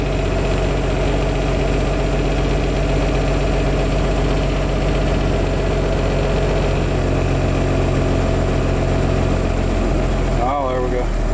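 A 1981 International cab-over truck engine running in gear after years of sitting, a loud, steady low diesel rumble with constant vibration throughout, briefly interrupted near the end by a short burst of other noise.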